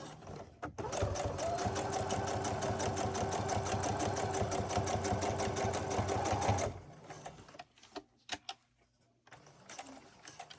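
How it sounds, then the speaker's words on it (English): A sewing machine stitches a cloth face mask, running steadily with rapid, close mechanical chatter for about six seconds before stopping, followed by a few faint handling knocks. "I basically backstitch that a couple times, so backwards and then forwards and then backwards one more time"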